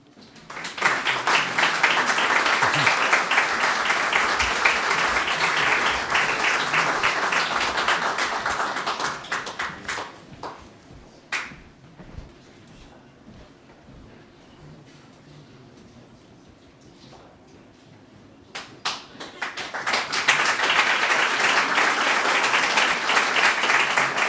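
Loud audience applause at a historic preservation awards ceremony, honoring award winners; sustained clapping for about ten seconds fades to near quiet, then a fresh round of applause swells up again toward the end.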